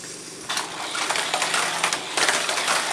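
A Tamiya mini 4WD toy car on a homemade DIY track makes a continuous high whirring, rattling rush, close and fairly loud, with clattering bursts as it runs the course.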